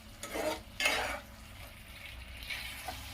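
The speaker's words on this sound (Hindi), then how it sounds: "इसे थोड़ा भून लेती हूँ और पनीर डाल दूंगी" Onion layers sautéing in a pan for paneer do pyaza, with soft sizzling and a couple of louder stirring bursts near the start, then a quieter steady fry.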